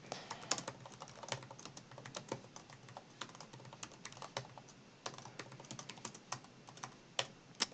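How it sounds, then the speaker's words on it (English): Rapid keyboard typing, a quick irregular run of sharp key clicks close up, with brief pauses between bursts. "typing."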